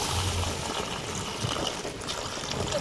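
Water pours into a pan of curry masala with potatoes, a soft, steady trickle and splash that carries through the moment.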